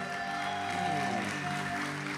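A church congregation at a Sunday service claps, a steady rush of applause mixed with a sustained musical tone and low hum, moderately loud throughout.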